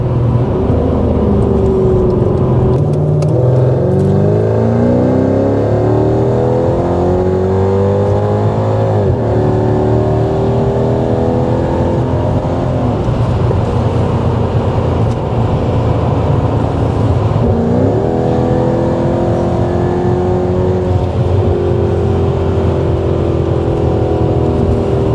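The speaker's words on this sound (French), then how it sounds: "le frérot donc me laisse conduire cette magnifique Mercedes" Mercedes E55 AMG V8 with full tube exhaust accelerating hard, a loud, continuous engine roar with rising and falling pitch through several gear changes, no talking.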